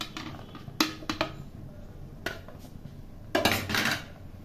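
Chopped radish and green chilli dropped into a pot of masoor dal, heard as a few sharp metallic clinks and scrapes of utensil against pot, irregular and close, with soft clattering bursts.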